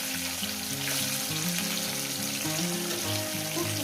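Fish sizzling in hot oil in a pan, a dense continuous frying hiss heard up close and steady throughout.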